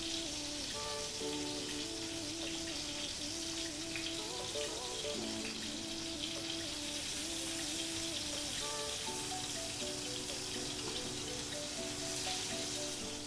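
Bitter gourd masala frying gently in a covered pan over low heat, a steady soft crackle and hiss running throughout with faint tonal hum beneath, no voices.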